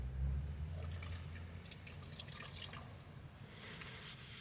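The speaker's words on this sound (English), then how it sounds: "Fill up a cup of water first, because it's easier to pour over my head" A cup of water is poured over someone's head during an outdoor shower at a van campsite near Olympic National Park, with soft splashing, dripping and trickling across several seconds.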